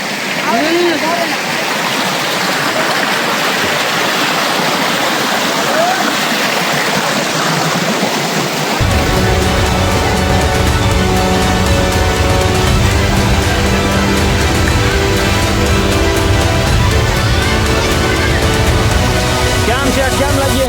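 Jatashankar waterfall at Girnar gives off a loud, constant rushing roar of falling water, which turns heavier and denser partway through.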